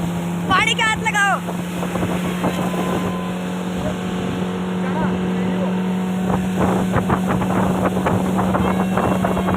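Motorboat on a lake in Udaipur, its engine a loud, steady hum under wind noise, with people talking over it, including a voice.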